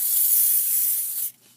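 Hairspray from an aerosol can sprayed over a finished watercolour painting, a steady loud hiss lasting over a second that cuts off sharply near the end.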